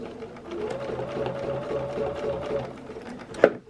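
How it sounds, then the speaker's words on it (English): Sewing machine running continuously while travel stitching across a quilt, a steady close mechanical whir with rapid needle chatter, ending in a brief sharp clunk near the end. "So now I wanted to do some travel stitching"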